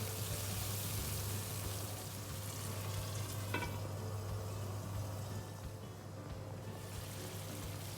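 Masala with tomatoes sizzling and frying steadily in a pan, a continuous close hiss with a low hum beneath and no talking.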